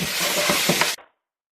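Curry shrimp stir fry being tossed and stirred in a hot pan, giving a steady close sizzle with scraping and clattering bursts that stops abruptly after about a second.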